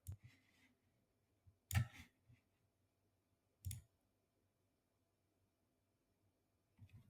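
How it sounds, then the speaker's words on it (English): Computer mouse clicks, close and quiet, come in a few isolated bursts separated by silence, with a cluster of two or three near the start and single clicks later. "So let's just click that and let's see what happens."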